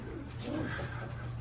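Pigeons in a loft give soft, throaty coos that rise and fall over a steady low background murmur, close by and continuous for a brief moment.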